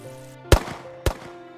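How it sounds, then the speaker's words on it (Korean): Two sharp, loud gunshot-like cracks about half a second apart ring out over a faint musical bed during a narrated hunting scene in a reed marsh, where hunters fire on wild geese. "총소리가 울렸다"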